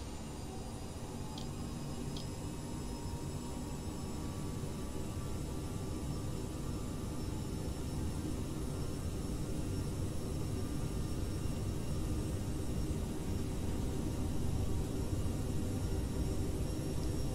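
Twin jet engines of an Aerosoft CRJ in Microsoft Flight Simulator spooling up for takeoff at Dulles, a steady broadband roar that holds loud and even, swelling slightly toward the end.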